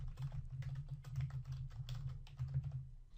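Quick, close keystrokes on a computer keyboard as a short line of text is entered, a dense run of light clicks with no speech.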